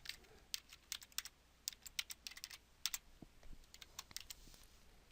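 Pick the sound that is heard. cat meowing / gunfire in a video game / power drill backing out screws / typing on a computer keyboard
typing on a computer keyboard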